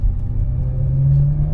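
A Maserati engine revs as the car accelerates, a deep steady rumble with a rising tone near the end, heard from inside the moving car without talk.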